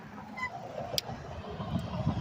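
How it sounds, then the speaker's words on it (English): A car drives past on a city street, a moderate engine and tire swish that rises briefly and fades within a couple of seconds. "that car is cutting me off"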